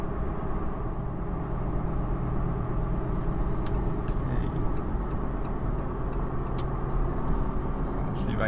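A Jeep Gladiator truck towing a Geo Pro camper accelerates on a highway, heard from inside the cab as a steady, dense road and engine drone with faint ticks over the top, while people talk.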